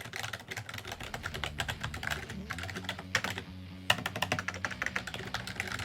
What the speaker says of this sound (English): this is the Element Gaming keyboard that I bought a few years ago